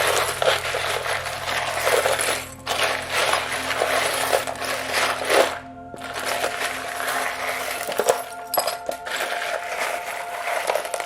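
Small charms are shuffled together by hand in a continuous close clattering rattle, with a short pause in the middle before the loose clinking resumes.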